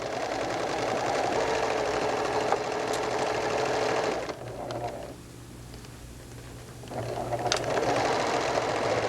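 A sewing machine sews up a knit sweater sleeve edge, a loud close whirring hum that eases briefly in the middle before the steady stitching picks up again.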